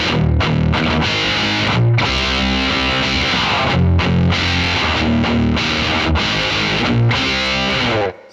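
Electric guitar played through a JHS PackRat distortion pedal: loud, thick driven chords and riffs ring out continuously, with brief gaps between phrases, alone with no talking.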